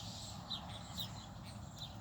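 Small finches chirping outdoors on a sunny afternoon in dappled shade, with three short, high, faint chirps spaced about a second apart over a soft, steady ambient background.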